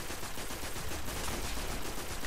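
Sniper fire in the Destiny video game on PS4 comes as a steady, dense barrage of gunfire crackle that fills the whole moment with no pauses.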